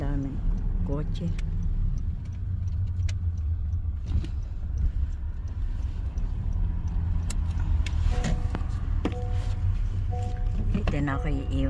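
Steady car traffic rumbles through a busy parking lot outside a Shimamura store, with engines idling and passing nearby alongside scattered clicks and thumps, while people talk throughout.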